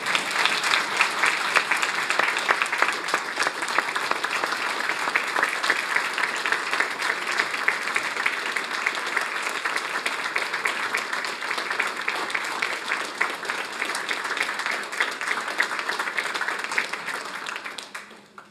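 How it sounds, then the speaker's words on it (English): An audience at a school board meeting applauds a group of cadets, a dense, steady round of clapping that carries for most of its length and then tapers off near the end, with no talk over it. "please join me in giving them a round of applause for all of their accomplishments"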